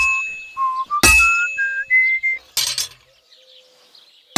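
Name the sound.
hammer striking hot metal at a forge, from video game Kingdom Come Deliverance 2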